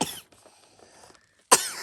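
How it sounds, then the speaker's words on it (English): A child coughs with a sharp burst at the start and another loud one near the end, separated by a quiet stretch of faint rustling indoors. "Oh no, you coughing"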